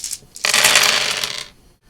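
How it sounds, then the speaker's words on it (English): Handful of dice rolled at once for a Chainmail tabletop wargame, a bright rattling clatter that swells quickly, holds for about a second and dies away, close and fairly loud with no talk. "I'm going to roll all the dice again simultaneously."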